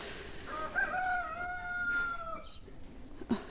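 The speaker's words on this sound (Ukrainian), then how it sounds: "півень співає" A rooster crows once in a long, drawn-out call, clear and moderately close, followed by a brief cluck.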